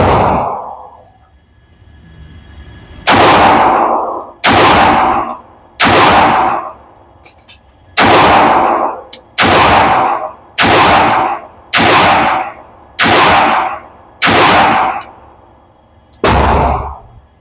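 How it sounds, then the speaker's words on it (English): Ten loud, sharp pistol shots from a custom RIA Pro Match, fired slowly and evenly at an outdoor range, each crack followed by a short decaying ring. "we'll just start out with some just slow precision shots"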